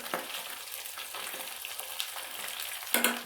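Chicken feet fry in hot oil, a soft, steady crackling sizzle with scattered pops and a brief louder burst near the end, with no talk.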